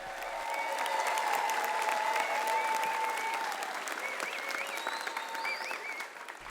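Dense, steady applause fills a high school graduation for a girls' softball team, a large crowd clapping continuously with a few whoops and cheers rising over it before it tapers off.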